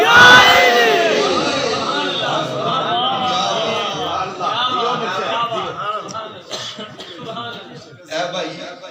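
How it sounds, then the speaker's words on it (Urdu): A crowd at a Mawlid gathering in Narowal district, Punjab, roars a religious slogan in honour of Mawla Ali, a loud massed shout of many voices that swells at the start and then breaks into looser overlapping cries. "مولا علی دے نعرے تے نعرہ حیدری"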